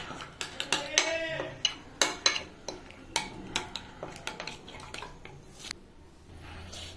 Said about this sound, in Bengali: এটা মিক্সটা কিন্তু ভালোভাবে করতে হবে, কোনো লাংস যেন না থাকে দইয়ের।